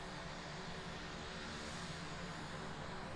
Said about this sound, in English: having Sounds Air taxiing all the way down to Alpha 2.